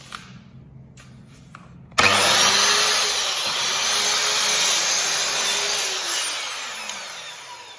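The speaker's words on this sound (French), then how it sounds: "je vais faire une petite découpe de planche" A power tool starts abruptly and cuts through a board for a wall skirting job, giving a loud, steady whining roar after a quiet start, close by and alone.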